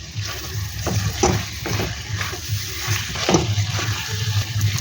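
Potato curry being stirred in a pan, Lucknow-style achari aloo, with repeated spatula scrapes and soft sizzling over a low steady hum, fairly loud and close with no talking.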